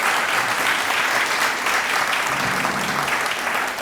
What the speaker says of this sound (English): Big round of applause for Marjorie for her leadership as our Chief